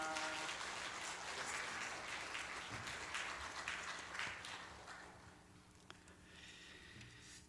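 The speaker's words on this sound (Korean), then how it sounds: "박수해 주시기를 바랍니다" A church congregation applauds during a Sunday service after a medal is presented, a soft, distant wash of many hands clapping that tapers off in the final seconds.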